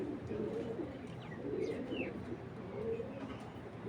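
A racing pigeon coos softly in repeated low, rolling phrases, with a few faint chirps from nearby birds in a quiet setting.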